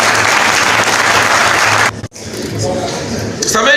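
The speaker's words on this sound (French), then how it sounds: "Vous pouvez vous applaudir." A large audience breaks into sustained applause in a hall during a French-language political address, loud and steady, with a brief dip before the clapping swells again.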